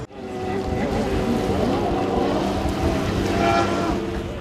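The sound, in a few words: personal watercraft engines roaring and water rushing at watercross race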